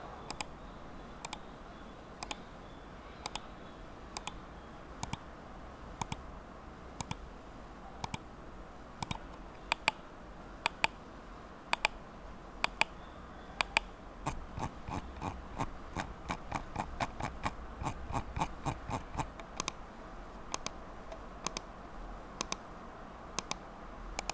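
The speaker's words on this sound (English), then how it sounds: "as with the scroll click, it requires just a moderate amount of pressure to activate. It is quite a satisfying clicking experience." Scroll wheel of a Ninjutso Sora V2 gaming mouse clicked repeatedly, crisp close clicks spaced about a second apart at first, then speeding into a rapid run before slowing again, with no talking.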